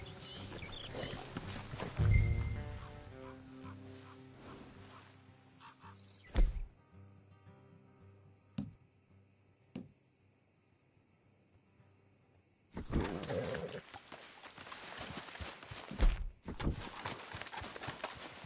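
Horses' hooves clip-clop at a walk in Red Dead Redemption 2, near and clear at first, then fading into quiet with a few isolated thuds before ambient game noise returns.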